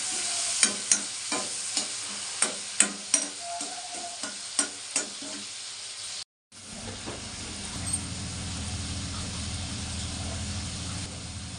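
Tomatoes with salt fry in a pan for pachadi, giving a steady sizzle. A spoon taps the pan rim about a dozen times at first, then after a short break the frying continues with a fuller hiss.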